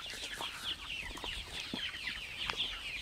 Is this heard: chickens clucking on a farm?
yes